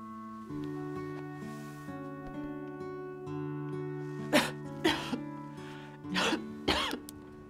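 A sick woman coughs several times in short, harsh bursts over a steady background of sustained music tones, the coughs standing out clearly and close.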